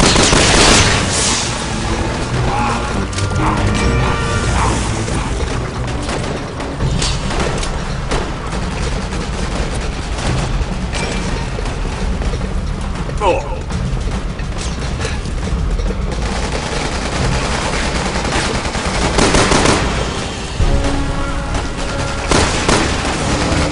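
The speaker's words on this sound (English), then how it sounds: "Someone shoot the gas! We can blow these things to kingdom come!" Gunfire and exploding gas in the co-op action game Resident Evil 6: loud, dense, continuous combat with overlapping shots and booming blasts layered over game music and effects, with no clear pause.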